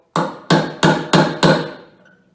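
Five hard, evenly spaced hammer blows close up, driving old cab mounts out of a Ford TW 20 tractor, each a sharp metallic strike with a short ringing decay.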